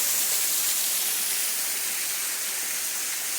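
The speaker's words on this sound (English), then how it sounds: "They take you underneath this little waterfall." A small waterfall on a hiking trail, heard up close as a loud, steady broadband rush of falling water with no break and no voices.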